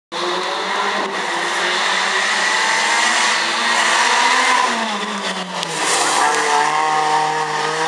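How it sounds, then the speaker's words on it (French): A Suzuki rally car roars past close by at a rally event, its engine note rising and shifting as it goes by, loud and continuous. "Guy Verbage au volant de la Suzuki numéro 166"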